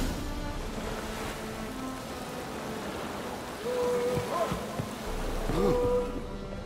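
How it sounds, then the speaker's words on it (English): Steady rain falls in The Witcher 3: Wild Hunt as a constant hiss with a low wash like surf, while faint voices and short tonal game sounds rise briefly over it. "And it's raining again."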